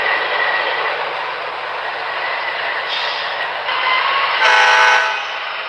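A video game train rumbles steadily along, then a loud horn blares near the end, swelling over the rolling noise before fading.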